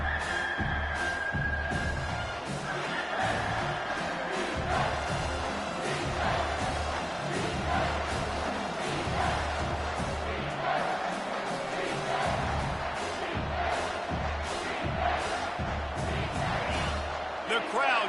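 A loud football stadium crowd roars and cheers without letup on a third-down defensive stand in the red zone, the dense wall of noise swelling in waves with shouts rising above it.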